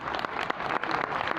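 An audience in a university auditorium at a conference applauds, a dense, fairly close patter of many hands clapping that stays steady for the whole short stretch.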